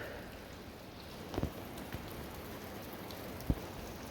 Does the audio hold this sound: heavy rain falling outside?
yes